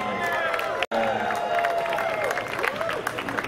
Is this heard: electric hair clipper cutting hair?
no